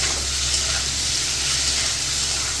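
Spices are fried and stirred with ridge gourd and potatoes in a pan, making a steady, close hissing sizzle that stays even for a few seconds with no talking.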